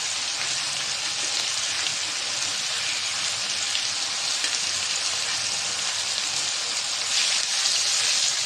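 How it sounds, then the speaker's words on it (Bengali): Chicken meat fries in hot oil in a pan, a dense, even sizzle that hisses loudly and continuously up close, swelling slightly near the end. "মুরগির মাংসের ওই পিঠটা ভাজা হয়েছে"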